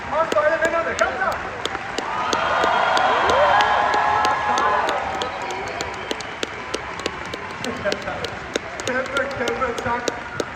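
An audience at the Simba award show applauds and cheers, a swelling wash of clapping and whoops that peaks and then thins into scattered claps, with a presenter talking over it.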